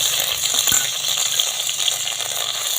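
Nigella seeds, green chilli paste and ginger paste fry in hot oil as tempering for a ridge gourd dish, giving a steady, close sizzling hiss broken by one brief clink early on, with no talking.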